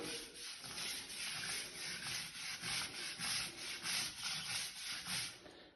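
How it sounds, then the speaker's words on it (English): Steady back-and-forth scrubbing with a stiff brush on a rust-stained Victorian tile floor, rhythmic strokes about once a second, close and fairly loud with no talking. "And then we give it a scrub with a brush again."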